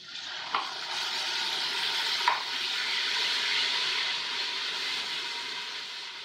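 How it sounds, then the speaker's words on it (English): Diced tomatoes hit a hot pot of Mexican chicken soup and set off a continuous hissing sizzle, with a couple of light utensil clicks early on. "now I'm gonna add my diced tomatoes"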